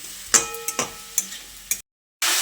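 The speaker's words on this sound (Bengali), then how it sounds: "বাঁধাকপিটা দিয়ে সব কিছুকে একসঙ্গে ভালো করে নেড়ে চেড়ে মিশিয়ে নিচ্ছি" Cabbage and spices are being stirred in a pan for a Bengali vegetarian dish, with a few close scraping strokes and a soft sizzle underneath before a brief break. No one speaks.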